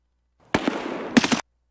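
Two short, loud bursts of rapid automatic fire from an M4 rifle in Escape from Tarkov, a video game, heard close and alone in a brief clip.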